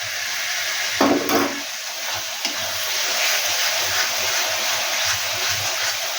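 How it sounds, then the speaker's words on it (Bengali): Spice paste frying in a pan with strained sour yogurt for a soybean and potato curry, a continuous sizzle with stirring scrapes and a brief utensil clatter near the start. "টক দই জল ঝরিয়ে রেখেছিলাম তা দিয়ে দিচ্ছি"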